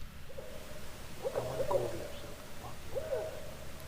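Two barred owls hoot at night, faint and distant, in short rhythmic bursts of low calls separated by pauses against a quiet outdoor background.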